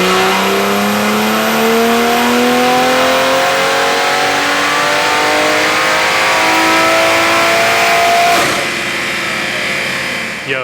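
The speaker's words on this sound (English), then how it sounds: "did you guys hear how loud this intake is with the open cone?" Toyota Supra with an open cone intake filter roars loudly as the engine revs steadily upward for about eight seconds, then the pitch drops as the throttle eases off.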